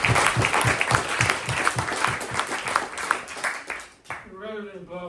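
Audience applause after a poetry reading, rhythmic clapping that carries steadily for about four seconds and then cuts off as a voice starts talking.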